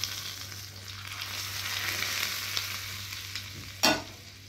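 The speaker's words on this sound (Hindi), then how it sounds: "घी का बगार दे दी इसको" Hot ghee poured over sheer khurma as a tempering, giving a steady close hiss of sizzling and frying that runs throughout. A sharp crackling burst comes near the end. No voices.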